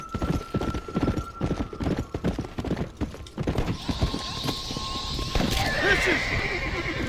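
Horse hooves clip-clop through a Red Dead Redemption Undead Nightmare game scene, a steady rhythmic trot of close, distinct hoofbeats over game ambience, with a brief whinny-like tone and a rising noise burst later.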